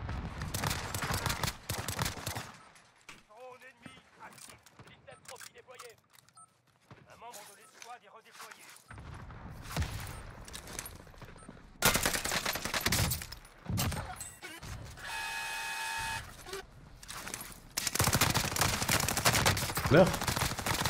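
Rapid automatic gunfire from a first-person shooter video game, loud bursts at the start and end with sparser shots between, under someone speaking French.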